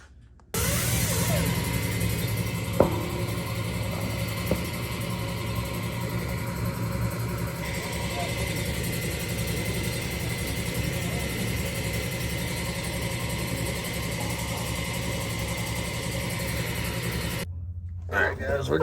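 A truck engine runs continuously after refuelling from a leaking fuel tank, a steady mid-pitched idle with a couple of brief knocks near the start, heard alongside talking before it cuts off near the end.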